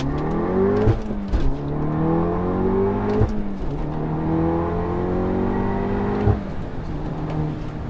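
Volkswagen Golf R with an APR Stage 2 tune accelerating hard through the gears, a loud, close engine note rising steadily in pitch with brief dips at each of three quick shifts, no talking.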